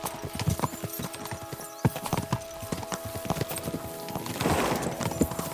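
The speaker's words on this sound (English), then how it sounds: "We should spur the horses on." Horses galloping in the video game Kingdom Come: Deliverance 2, a steady run of hoof clip-clops with a brief whinny, set against a faint tonal in-game background.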